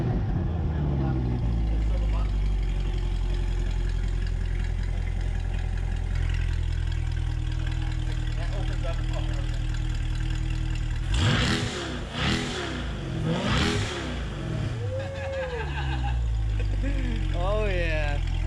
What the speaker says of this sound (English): now that is a V8, ladies and gentlemen